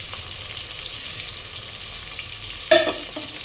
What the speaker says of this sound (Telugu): ఉల్లిపాయలు బాగా ఫ్రై అవ్వాలి